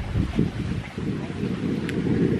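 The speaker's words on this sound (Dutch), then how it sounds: "het waait lekker door" Wind in a force 3 to 4 breeze buffets a moving boat on open water, a constant low rumbling roar of gusts against the microphone throughout, loud and close, with no talk.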